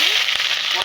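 Chopped onion hitting hot oil with cumin seeds gives a steady, close, broadband sizzle with faint crackles, alone and without talk.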